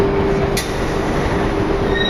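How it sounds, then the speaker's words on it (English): Train pulling into a platform at Madrid's Puerta de Atocha station, a loud steady rumble of rolling wagons with a thin high wheel squeal and a brief sharp click, no voices. "And you get a train like this."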